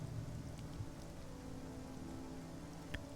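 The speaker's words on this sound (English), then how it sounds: "Thunder shakes the trees." Steady, close rain patters and hisses through the Traitor's Wood in the video game Sunless Skies, with a soft low rumble of thunder underneath and a single brighter drip near the end.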